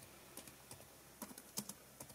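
A search typed on a computer keyboard, quiet close-up key clicks in irregular bursts with short pauses, a few keystrokes sharper than the rest, and no talking.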